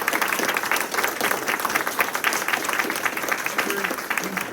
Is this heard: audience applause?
yes